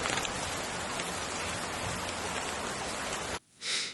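Heavy rain pours down during a subtropical storm on the coast of Huelva, Spain, a dense, steady roar of drops on surfaces that cuts off abruptly near the end, followed by a brief hiss.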